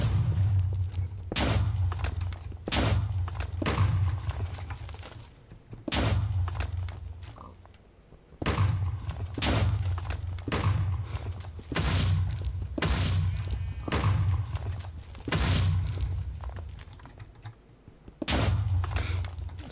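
Repeated explosions in the Minecraft game, heavy booming thuds arriving in irregular bursts about a second or two apart over roughly twenty seconds, each loud with a rumbling low end and crackling debris tail.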